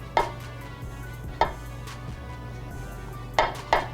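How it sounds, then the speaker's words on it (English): A fork works a cooked potato on a plate, giving a few sharp, sparse clinks and taps against the dish over a low steady background hum, with no talk. "what I usually like to do is take a fork and just break it down a little bit"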